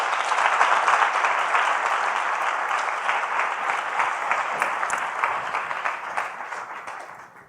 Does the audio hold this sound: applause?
yes